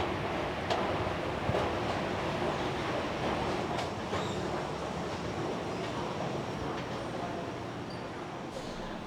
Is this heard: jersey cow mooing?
no